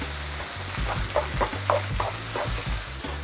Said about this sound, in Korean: 불에서 천천히 볶아주세요